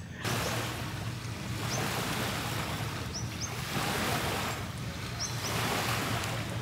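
Gentle waves wash ashore on a quiet beach at Naka Island near Phuket, Thailand, a soft steady surf rising and falling in slow swells under a light sea breeze, with no talk.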